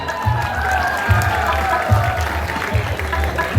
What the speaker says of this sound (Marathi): ते दत्ता पाटील त्यांच्यासाठी जोरदार टाळ्या